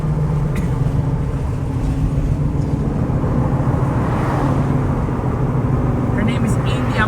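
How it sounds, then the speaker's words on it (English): Inside a 2001 Toyota Tacoma first-generation crew cab with a 6-cylinder engine, a steady low engine and road rumble drones throughout, with a person talking over it. "Driving my awesome Toyota Tacoma India, the 2001 Toyota Tacoma, first generation crew cab"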